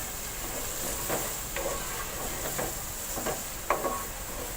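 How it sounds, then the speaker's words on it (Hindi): Onions frying in oil left over from frying okra, a steady soft sizzle with occasional stirring scrapes and clicks in the pan, no talking. "इसी ऑयल में मैं प्याज को फ्राई करूँगी।"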